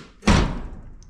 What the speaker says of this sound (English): Look how good this door opens now.